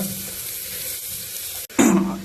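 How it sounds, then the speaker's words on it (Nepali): Steady frying hiss with faint stirring scrapes, broken by a sharp click, then a louder burst of sizzling as onions hit hot oil. "प्याज मात्रै अब प्याज हालेर मात्रै भुट्दैछु है।"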